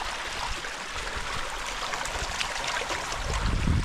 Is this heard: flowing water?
yes